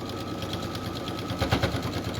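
Sewing machine stitching the back pleats of a fabric accordion pouch, a steady rapid mechanical run that grows louder and bumpier around the middle as the needle passes through thicker layers, alone without talk.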